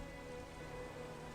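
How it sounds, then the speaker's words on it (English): Steady rain falls across an open tundra in an audio drama scene, a faint, even hiss of drops with no distinct thunder and no speech. "the sky cracked with thunder, and rain began to roll into the tundra."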